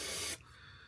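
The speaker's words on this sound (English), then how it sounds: "I should be able to spray that." An aerosol spray can gives one steady, close hissing burst of about a third of a second that cuts off sharply, leaving faint room noise.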